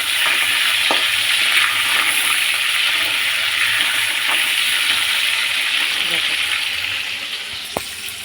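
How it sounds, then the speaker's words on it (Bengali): Meat fries in oil with a yogurt spice paste, a loud steady sizzle with occasional stirring scrapes and a sharp knock near the end, a voice faintly present beneath. "এদিকে মাংসটা ভাজা হয়ে এসছে"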